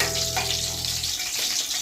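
Green chillies and curry leaves fry in hot oil with a close, steady hiss and sizzle lasting about two seconds, with no talk.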